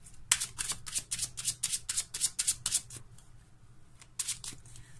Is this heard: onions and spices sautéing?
no